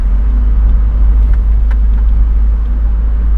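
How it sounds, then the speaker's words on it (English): A car rolls down a steep hill into Telegraph Cove, British Columbia, with a loud, constant low rumble of engine and road noise inside the vehicle and a few faint clicks over it. "We're driving into the cove, down the steep hill."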